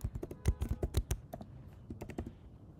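Rapid keystrokes on a computer keyboard as a passphrase for an SSH key is entered, close and clear, in an uneven burst of taps that thins out toward the end, with no talking.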